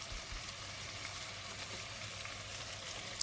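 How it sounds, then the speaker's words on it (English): Tomatoes get pushed around the bottom of a hot cooking pot, making a faint, steady, even sizzle that carries on without a break. "I'm basically trying to push the tomatoes at the bottom of the pot so that it can create a moist and lift up the glaze"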